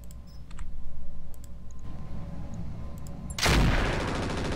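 Weapons fire in a turn-based video game battle: quiet clicks at first, then a sudden loud burst of shots near the end.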